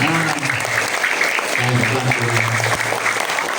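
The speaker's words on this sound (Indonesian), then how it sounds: "Tepuk tangan." Sustained clapping fills an Isra Mi'raj commemoration at an Indonesian primary school, SDN Tampomas, with voices and low tonal sounds running beneath the steady, even applause.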